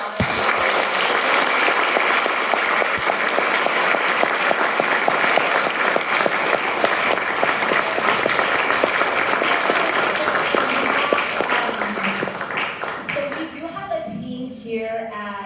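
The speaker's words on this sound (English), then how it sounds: "Can everyone give them a round of applause?" A university Q&A audience at U of I claps in a long, dense, loud round of applause for about thirteen seconds before it thins out and a voice begins speaking.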